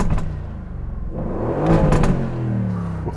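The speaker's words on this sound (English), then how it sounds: "Oh, I just love the sound of a V8 engine." A 503 hp Aston Martin Vantage V8, already warmed up, revs hard up close. The engine note rises and falls in a loud, throaty burst, with a deep rumble and a brief crackle as it climbs, and no talk over it.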